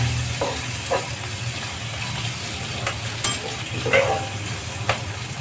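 Roasted gram flour stirred into capsicum cooking in a pan, a soft steady sizzle with occasional scraping strokes of the spoon standing out faintly above the frying hiss.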